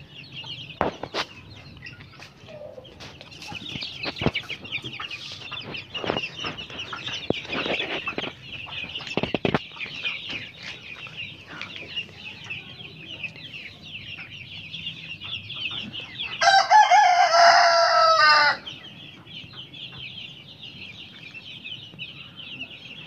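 A small young rooster gives one short, strained crow partway through, set against steady chirping birds and occasional clucks nearby.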